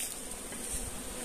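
Africanized honey bees buzzing around an opened hive during a beekeeping lesson, a faint steady hum of many wings with no voices.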